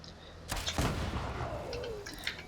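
An explosive bow fires in Fallout 76, giving a sharp twang and whoosh followed by a booming blast and a trailing whistle, loud and close against low game ambience.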